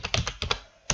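Quick keystrokes on a new computer keyboard, a handful of crisp close clicks in an uneven rhythm, alone.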